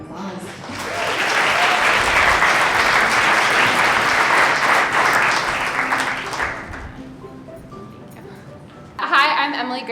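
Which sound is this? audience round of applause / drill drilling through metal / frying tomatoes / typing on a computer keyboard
audience round of applause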